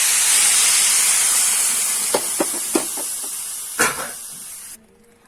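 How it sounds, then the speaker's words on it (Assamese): Water poured into roasted semolina in a hot pan gives a steady, loud hiss with a few sharp crackling bursts, then stops abruptly near the end. "পানী দি দিলে হ'ল এতিয়া পানী এড কৰি দিম"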